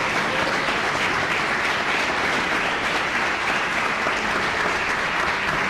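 Church congregation applauding, loud dense clapping from a large crowd that holds steady and continuous for several seconds.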